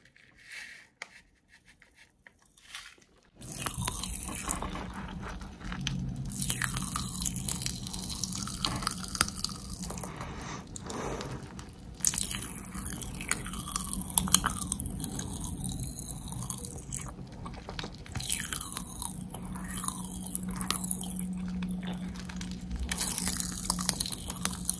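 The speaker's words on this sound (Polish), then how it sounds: "Może sobie nasypię trochę tej posypki do buzi." Sugar sprinkles poured into the mouth and chewed, giving close, crisp crunching and mastication bursts after a few seconds of quiet, repeated steadily and alone.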